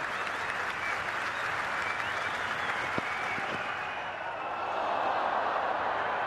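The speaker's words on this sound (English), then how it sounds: "You can hear the applause in the background." A crowd at a Test cricket match between Australia and India applauds, a broad wash of distant clapping holding steady throughout, with a couple of faint thuds partway through.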